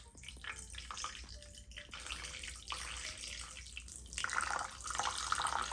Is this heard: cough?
no